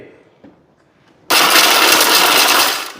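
A Prima mixer grinder crushing stone kicks in abruptly after a quiet moment, a loud, harsh motor roar that holds steady for about two seconds and then begins to fade.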